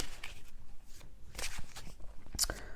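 A tarot card laid over another card in a reading: soft papery slides and light taps, several brief card contacts scattered through a quiet room.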